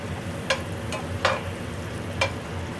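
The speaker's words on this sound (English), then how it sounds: "Let that butter go ahead on and melt down." Unsalted butter sizzles softly in a frying pan as it melts for a steak omelette, a steady low crackle broken by four brief sharp spitting pops spaced across the moment.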